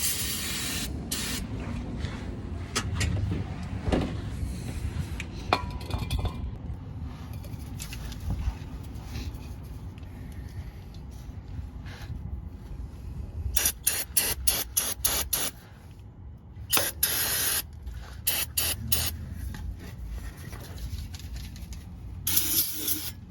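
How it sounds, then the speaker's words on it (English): Cleaner sprayed in short bursts onto a transmission part from a 2007 Chevrolet Silverado coated in transmission fluid, with clusters of sharp hissing spritzes standing out over steady background rumble and handling noise. "Right now I just sprayed all of that piece that had transmission fluid"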